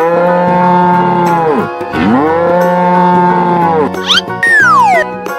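Cartoon cow mooing in a colorful animal crossing video game, a loud, sustained moo repeated twice, followed by rising and falling whistle-like game effects.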